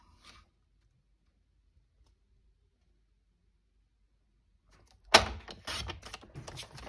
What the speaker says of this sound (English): we're going to cut from that point up to that point using our scoreboard, our trimmer